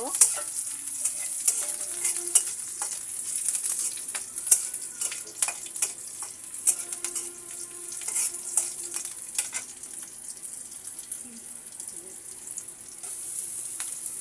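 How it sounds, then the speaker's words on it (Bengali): Chopped onions frying in a pan until golden brown, with a steady sizzle and frequent clattering stirs and scrapes, no speech. "পেঁয়াজটাকে আমি গোল্ডেন ব্রাউন করে ভেজে নেব"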